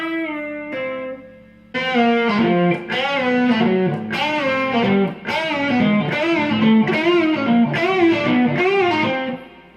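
A distorted electric guitar plays a sustained melodic phrase with bending, gliding notes, loud and continuous after a short opening note.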